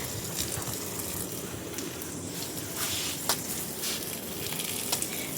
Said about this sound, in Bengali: টবেও জল দিয়ে দিচ্ছি আর গাছগুলোতে একটু ধুয়ে দিচ্ছি ভালো করে।